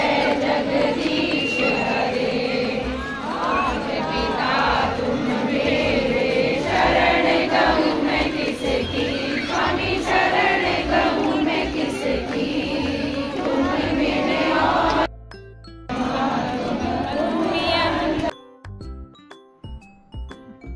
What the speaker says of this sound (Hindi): काफी भीड़ हो रखी है